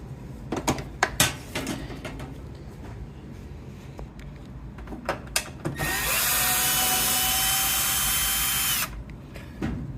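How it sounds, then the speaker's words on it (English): A power drill whirs steadily for a few seconds while backing screws out of an old Kenmore washer, preceded by scattered clicks and knocks from handling the machine. "I try to take these screws out"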